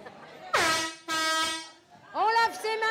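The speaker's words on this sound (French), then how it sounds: "2 coups de corne de brume" Foghorn blasts sound at a party, two long, loud, brassy honks followed by a third rising, wavering horn tone, with no talking.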